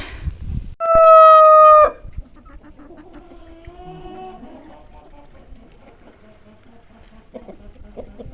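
A rooster crows once loudly and close in a village farmyard, followed by softer clucking from chickens and faint rustling and pecking sounds.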